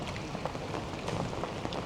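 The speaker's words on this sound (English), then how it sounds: "And despite the rain, it is beautiful." Steady rain falls on a town market square in Germany or Poland, a dense close hiss of drops spattering on pavement with scattered sharper taps, continuous and fairly loud, with no voices.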